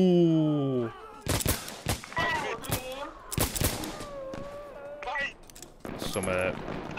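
Shots crack in the video game Insurgency Sandstorm, where players trade fire as cowboys: sharp, loud gunshots in irregular bursts, with ringing tones and voices between them.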